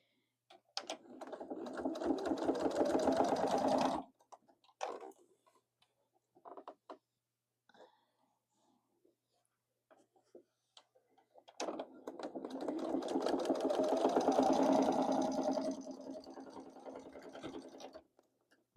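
A sewing machine stitches quilt binding in two sustained runs, each several seconds long, with a quiet gap of faint clicks and thread handling between them.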